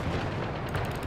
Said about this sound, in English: I am shooting HE.